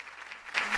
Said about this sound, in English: Giving you the applause there.